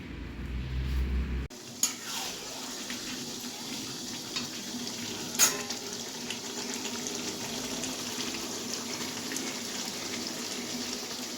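Meat cooks in a pan in a home kitchen, a steady close sizzle with stirring scrapes running throughout after a short burst of louder noise at the start, with no talk.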